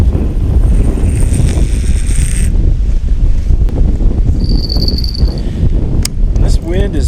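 Strong gusting wind, around 30, buffets a lakeside fishing spot during fall carp fishing, a loud, continuous roar of rushing air and microphone rumble with brief whistling tones.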